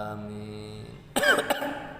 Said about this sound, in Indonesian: Teman ini rada kurang sehat, batuk ya, jadi suaranya kurang lantang.